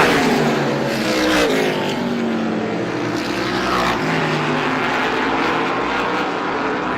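Race cars roaring loudly around the Star Speedway oval during an SBM 125 heat race, a dense continuous engine drone with rising and falling pitch as cars pass close by, no talk.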